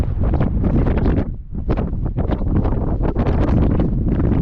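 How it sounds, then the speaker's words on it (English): Strong wind buffets the microphone in heavy, continuous gusts, a loud roaring rush with brief dips. "So windy."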